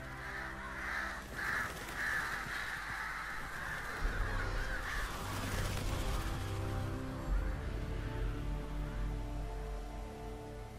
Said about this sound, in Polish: O kurde, ale wron.